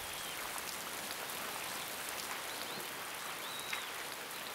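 Rain falling steadily around a traditional Korean hanok, a soft, even patter and hiss of drops on surfaces that holds constant throughout, with no voices present.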